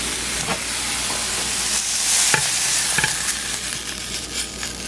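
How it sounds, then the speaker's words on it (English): Chicken sausage browning with peppers and onions in a pan makes a loud, steady, close sizzle, with scattered clicks and scrapes from stirring throughout and no voices. "we're going to saute up the sausage, chicken sausage, with the peppers and onions just for a few minutes"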